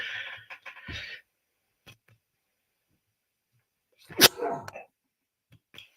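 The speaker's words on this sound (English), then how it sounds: "it's one of those dad sneezes" One loud, explosive sneeze up close, preceded by a sharp breathy build-up a few seconds earlier, with silence in between.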